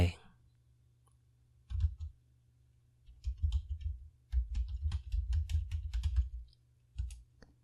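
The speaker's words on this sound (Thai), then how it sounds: "แล้วก็กดปุ่ม insert พิมพ์ชื่อเรื่องที่เราจะสอนลงไป" Close, quiet computer keyboard typing and mouse clicks, with scattered clicks early, then a dense run of keystrokes, and a faint low hum underneath.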